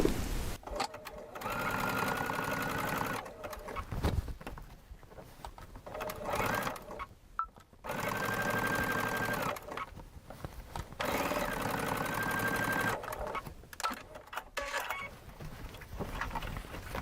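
A sewing machine stitching down quilt binding in long runs of fast, even mechanical chatter, stopping and restarting several times with short quiet pauses between, close and clear with no talk.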